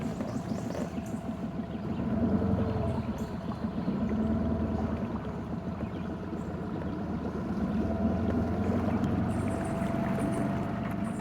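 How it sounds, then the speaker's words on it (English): Outboard motor on a small boat idling in neutral in shallow water, a steady low drone with gentle swells in level, heard alone at moderate distance. "the sound you were hearing was the motor"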